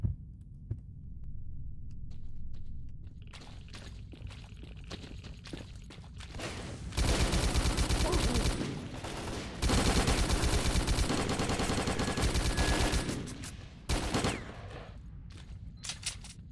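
Sustained bursts of automatic assault rifle fire in the shooter game S.T.A.L.K.E.R.: Call of Pripyat, set on a road trip into Pripyat, with two long, loud volleys plus shorter bursts over rumbling background ambience.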